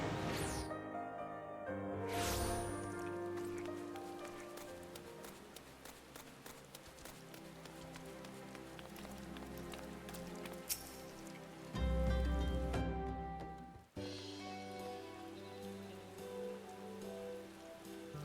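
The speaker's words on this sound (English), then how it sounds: "We shouldn't really be having this cutscene in the rain." Steady rain patters through a cutscene in the Final Fantasy XIV video game, faint and continuous beneath layered music and ambient game sounds, with a few louder swells along the way.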